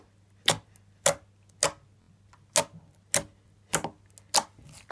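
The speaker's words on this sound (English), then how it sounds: "we're going to do some more poking noises from every single slime" Raspberry Ripple slime poked by hand, giving about eight separate wet, sticky clicks at a steady pace, close and fairly loud, with no voice.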